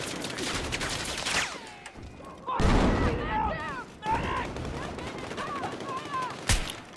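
Mini Scout sniper rifle shots in a video game, a few sharp loud cracks with one heavy blast midway and another near the end, separated by bursts of chirping effects and a voice talking.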